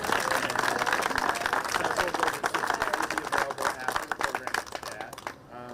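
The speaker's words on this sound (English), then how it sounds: "So please join me in giving a round of applause to all those folks." An audience at a county housing trust fund announcement gives a steady round of applause, a close, dense patter of many hands that thins out and stops abruptly at the end.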